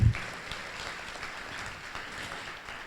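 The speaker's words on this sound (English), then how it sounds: "I think we deserve a round of applause" An audience at a university oath-swearing and awards ceremony applauds, a soft, steady and fairly distant patter of clapping that follows a short thump at the start.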